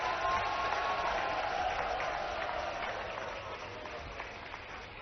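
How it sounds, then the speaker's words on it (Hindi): Audience applause at a public event in Indore, a dense steady wash of many hands clapping throughout, loud at first and gradually easing off toward the end. "जरा तालियां बजाकर स्वागत करें आप।"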